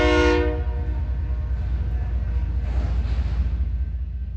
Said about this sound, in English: set up at the 11th Street grade crossing to catch this northbound BNSF unit grain train